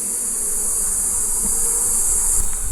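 Honeybees hum steadily around an opened hive during an inspection, a dense, continuous buzz close by with no voices.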